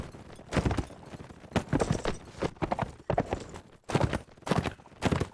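Hooves clip-clop in uneven bursts as horses move in a medieval strategy game battle with cavalry and heavy lances. The clattering is fairly close and loud, with no voices.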